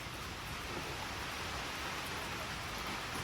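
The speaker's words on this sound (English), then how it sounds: "We made it in before the heavy rain came back, which is good." Heavy rain falling outdoors on a homestead, a dense even hiss of drops with no breaks, steady and moderately loud, no talking.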